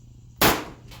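A single sharp gunshot from an AK-style M90 rifle firing .223 rounds on the first gas setting, a loud close crack with a short decaying tail and then quiet.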